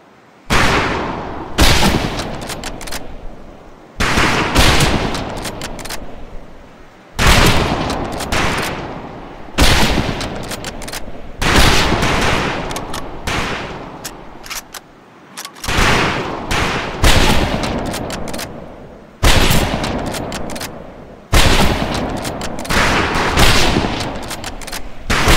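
Rifle fire at a shooting range in the video game Medal of Honor: Pacific Assault comes in loud, sharp volleys repeating every few seconds, with brief quiet gaps between bursts.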